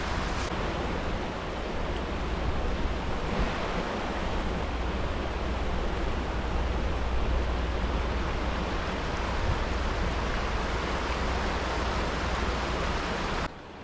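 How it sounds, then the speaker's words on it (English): River rapids on a clear freshwater stream along an Ohio hiking trail, rushing water forming a dense, steady broadband roar that fills the scene from start to finish, close and continuous with no talking. "We've made it to the rapids."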